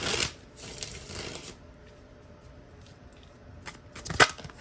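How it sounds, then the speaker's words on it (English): Tarot cards being shuffled by hand, a riffling burst at the start and another around one second, then a quiet stretch before a sharp, crisp card flutter near the end, close and fairly soft. "Let's shuffle the cards, see what comes out for you."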